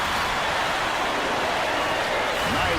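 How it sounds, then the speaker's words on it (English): A packed college basketball arena crowd in the video game College Basketball 2K8 roars and cheers as a dense, unbroken wash of noise, loud and sustained throughout. "Listen to this crowd. This place is going crazy."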